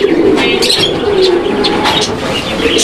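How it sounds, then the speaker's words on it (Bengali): A male pigeon coos repeatedly up close, throaty rolling calls in a loose rhythm, with faint chirps of other birds around it. "নর কবুতরটা দেখছেন কি পরিমাণ ডাকাডাকি করে"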